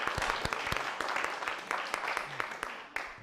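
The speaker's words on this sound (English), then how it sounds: "Round of applause." A round of applause at a small-town selectboard meeting, a modest group of hands clapping with individual claps distinct, fairly close and steady, fading slightly at the end.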